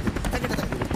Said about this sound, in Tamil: ஹெலிகாப்டர்